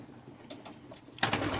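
Soft, low cooing from a small racing pigeon hen, faint and brief, with a slightly louder coo near the end.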